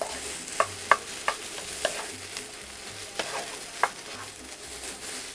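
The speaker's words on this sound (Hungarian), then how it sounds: "amíg ez sül ez a kis padlizsán" Small eggplant pieces fry in a pan, with a soft steady sizzle broken by scattered sharp crackles and light stirring taps, close and moderate, with no talking.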